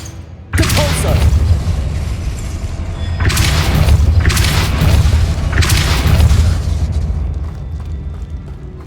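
Spell blasts from the Depulso force charm in the Hogwarts Legacy video game: three loud, deep booming bursts, each rumbling for a couple of seconds, with no talking.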